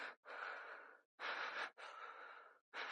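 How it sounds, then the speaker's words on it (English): Heavy, loud breathing in a tense church scene, with long rasping gasps and sighing breaths repeating in a steady rhythm, close to the listener and with no talking. "Why are you breathing like that?"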